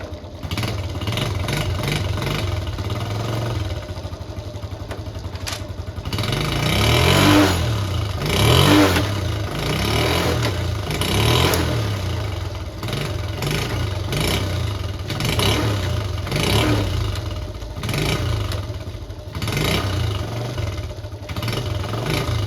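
A Honda Cub C70 classic motorcycle under restoration runs close by, its small engine idling with a steady putter and rising into several revs before settling again.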